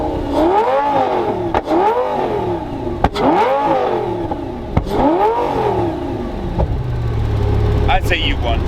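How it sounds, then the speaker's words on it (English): A car engine, near a McLaren 720S, revs hard in a rev battle: repeated rising and falling surges with sharp pops between them, loud and close, with people talking briefly over the roar. "how about a rev battle? Rev? Yeah. All right, listen to this"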